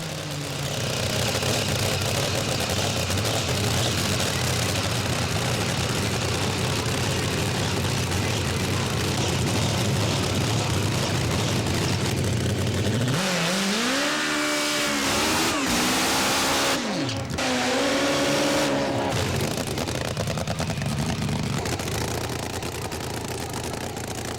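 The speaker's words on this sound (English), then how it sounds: "In case you've never seen a 7-second, 180 mile/hour drag bike in action, here's a look." A nitromethane-fuelled drag bike, blown or turbocharged and built for 7-second, 180 mph passes, roars in a sustained loud engine wash, with a distinct pitch-swinging rev sweep partway through that rises, falls and cuts off near the end.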